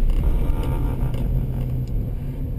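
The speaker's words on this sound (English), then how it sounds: "You don't normally drive like this on the road, but this is an emergency avoidance technique." A car runs through an emergency avoidance swerve on a driving-school course, its engine a steady, close, loud rumble with no tyre squeal standing out and nobody talking.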